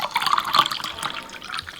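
Cold water poured into a glass while preparing aam panna, a steady, bright, splashy stream running continuously close by with no voices over it.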